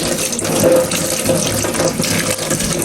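Tap water runs steadily into a kitchen sink as green chilies are washed under it, a continuous close splashing stream with no talk.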